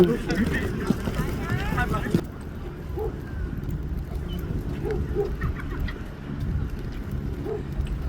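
Seagulls call faintly along the spring shoreline at White Rock, Canada, near a breakwater by the bay; a few scattered, distant cries rise over a low ambient rumble, with brief voices at the start.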